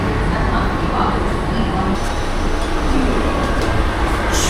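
A Mumbai local train rumbles at Wadala station with a steady, loud low roar and rattle throughout, people talking under the noise.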